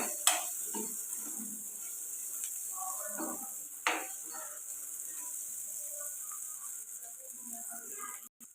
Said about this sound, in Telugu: ఒక రెండు నిమిషాల పాటు ఫ్రై చేసుకోవాలండి ఇవి ఉల్లిపాయ కొద్దిగా మెత్తబడిన దాకా ఇవి ఇలా ఫ్రై అవుతాయి కదండి కలుపుకుంటూ ఫ్రై చేసుకోవాలి